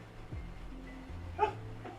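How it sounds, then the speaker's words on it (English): A dog gives a single short bark or yip indoors, faint and a little distant, with low background hum and no speech over it. "let me let my dog out"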